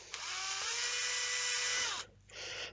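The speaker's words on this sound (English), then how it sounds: "That was all the pre-drilling." A power drill whines steadily while pre-drilling holes in a cast resin dice tower part, a loud, near, sustained high-pitched buzz for about two seconds, then stopping and briefly starting again.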